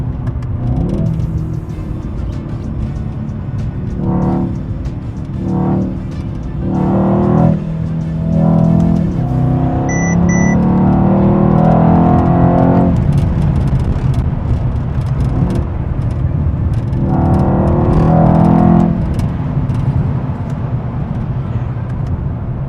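A Mercedes E63S AMG luxury sedan with a 603 hp engine drives along Kenyan roads, its loud close engine rumbling and surging through several revving bursts, with road and traffic noise throughout.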